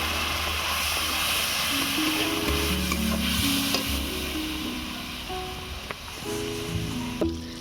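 Coriander and chili powder stir-fried in a pan with a splash of water for a khalse fish chorchori with drumstick flowers: steady close scraping of the spoon over a continuous sizzle, with no talking.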